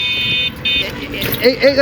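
A vehicle's hydraulic horn gives two loud, piercing blasts close by, a long one and then a short one, followed by a person talking.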